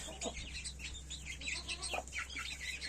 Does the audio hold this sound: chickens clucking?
yes